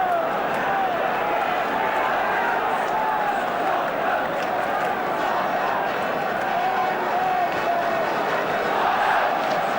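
A Tottenham football crowd in a 1970s stadium sends up a continuous, distant roar of cheering and chanting that stays loud and even throughout, with a commentator's voice faintly over it.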